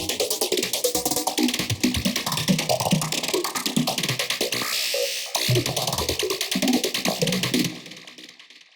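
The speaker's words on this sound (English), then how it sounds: "For the last lead, I'm going to show Chromizol, which sounds really good for nighttime psytrance" A bright Chromizol synth lead preset for nighttime psytrance, playing rapid rhythmic pulsing stabs with a buzzy, high-heavy tone that runs steadily and loud, then thins out near the end, with no talking.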